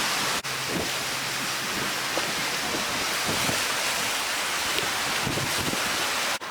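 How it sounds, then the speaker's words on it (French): Strong seaside wind roars across a beach in Argostoli, Kefalonia, a steady broadband rush with buffeting gusts and bumps, loud and constant, with no voices. "et il y a beaucoup de vent."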